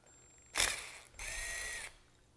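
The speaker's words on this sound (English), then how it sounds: "Now remove these screws with the" A power drill backs screws out of a Rheem Ikonic tankless water heater during a propane conversion, giving two close whirring bursts, a short one and then a longer steady run.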